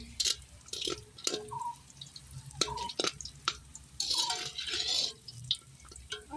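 Raisins and cashews fry in hot ghee, giving close, quiet crackles and sputters with irregular sizzling bursts and faint clinks of a utensil.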